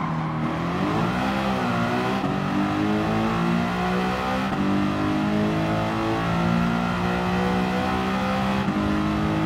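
2007 BMW M3 engine in Gran Turismo 7 on the Circuit de Sainte Croix, revving loudly and continuously with rising and falling pitch as it shifts through gears, no talk.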